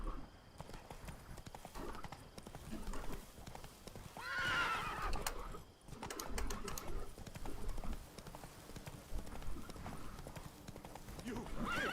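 Roach, the horse in The Witcher 3: Blood and Wine, gallops with a steady clip-clop of hooves and lets out a sharp whinny midway, with voices talking over the hoofbeats.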